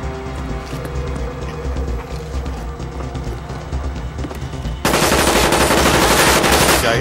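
Gunfire in the Black Ops game: rapid automatic bursts over a rumbling background, then a sudden loud sustained blast of dense fire for the last two seconds, close and harsh.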